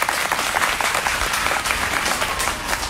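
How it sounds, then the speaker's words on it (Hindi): An audience at a spiritual discourse in Puri breaks into steady, dense applause that holds at an even level throughout. "अरे आप लोग वहां पर पक्ष ताली तो बजाओ कम से कम"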